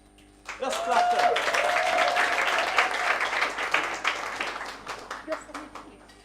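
An audience claps at a school debate award ceremony, a burst of applause that swells and then thins into scattered claps, with voices talking over it.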